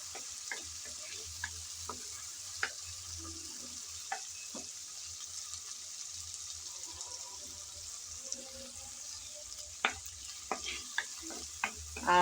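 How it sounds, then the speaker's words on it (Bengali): Ginger, garlic and onion stirred and fried in a pan, a quiet low sizzle broken by scattered spatula taps and scrapes, fairly faint and without voices. "আদা আর রসুন পেঁয়াজের সাথে আবারও একটু নেড়েচেড়ে ভেজে নেব, যাতে কাঁচা গন্ধটা চলে যায়।"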